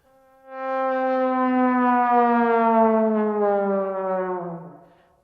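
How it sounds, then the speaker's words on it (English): Extreme down slides from the Neo Trio sample library, a sustained bright, harmonically rich tone that swells in and glides steadily downward in pitch over about four seconds, then fades. "These extreme slides are separated into down and up slides that are triggered by the dynamics."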